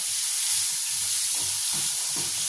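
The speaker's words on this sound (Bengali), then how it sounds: "এবার এর মধ্যে কালো জিরে ফোড়ন দিয়ে দিলাম আর দিয়ে দেবো পেঁয়াজ" Onions and black cumin seeds fry in hot oil with a steady, close sizzle and hiss, and soft stirring scrapes come through underneath.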